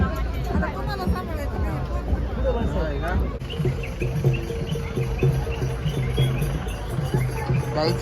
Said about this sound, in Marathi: जाम म्हणजे जाम गर्दी आहे दोन्ही साईडला पॅक आहे